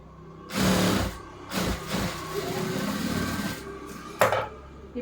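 Sewing machine stitching a frill onto a frock, running in short bursts with pauses, close and moderately loud, with a brief knock near the end.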